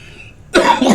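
A single short, sharp cough from a person who has been coughing for days with an itchy throat bursts out close up after a moment of near silence, with a second rough push at the end.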